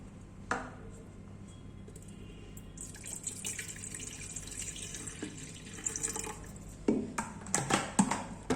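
Tap water running into an electric kettle in a home kitchen, a steady splashing stream with a few louder gurgles and clunks near the end, heard alone without talk.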